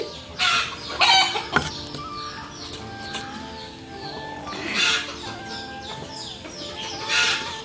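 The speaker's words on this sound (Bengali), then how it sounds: "এখানে আমাদের মুরগি দুইটা ডিম পারছে" Hens cluck and squawk nearby in irregular bursts after laying eggs, with a few louder outbursts and softer clucking in between.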